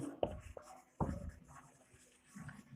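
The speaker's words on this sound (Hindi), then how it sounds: "पहले मैं फुल लिखता हूं" Handwriting during a math lecture, probably chalk or marker on a board, gives faint scratchy taps and short strokes, two stronger hits among quieter scraping in a quiet room.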